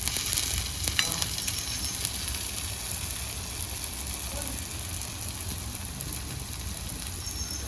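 A wheat-flour pudla frying in oil in a pan gives a dense, even sizzle that runs throughout, close and steady, with a few light utensil taps near the start and no voices.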